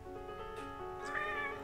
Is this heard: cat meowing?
yes